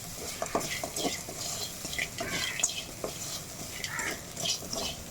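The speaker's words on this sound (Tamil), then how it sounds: "இதையும் சேர்த்து ஒரு முப்பது செகண்ட் நல்லா அடுப்பை ஹையில் வச்சு வறுத்து எடுத்துக்கலாம்" Grated coconut and green chillies are roasted in a pan over high heat. Dry, rustling scrapes of stirring come in quick, uneven bursts over a light sizzle, fairly quiet and close.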